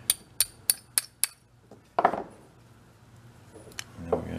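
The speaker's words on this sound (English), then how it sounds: "We tap the pin in." A small hammer strikes a pin into a damaged log splitter on a bench, five sharp metallic taps in quick succession, followed by a couple of scattered clunks.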